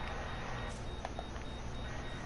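A vehicle in a video game sounds faint reversing beeps, a few thin, evenly spaced tones sitting under a steady background rumble.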